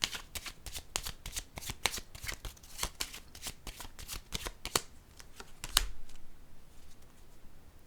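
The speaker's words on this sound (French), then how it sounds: "Je vais piger une autre carte." Tarot cards shuffled and drawn: a close, steady run of crisp riffling snaps and flicks, then one sharper slap near the end as a card comes off the deck, with no talk.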